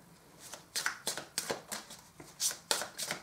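Oracle cards being shuffled by hand in a series of crisp, rapid riffling bursts, about eight short rustling flurries in close succession, near and clear with no talking.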